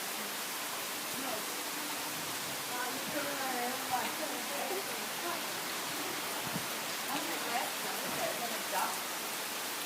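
Pouring rain, a steady dense hiss of falling water heard all around, with people talking under it.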